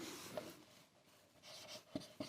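A pen writes on paper during a maths lesson on surface area and volume, making faint, soft scratching strokes in short bursts with small taps in a quiet room.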